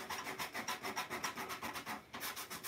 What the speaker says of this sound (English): So I always come in just with a bit of sandpaper.